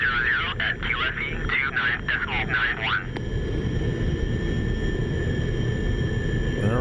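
SR-71 jet engines roar during takeoff in the DCS flight simulator, a loud steady rumble under a warbling radio voice that clears into a continuous engine drone with a high whine.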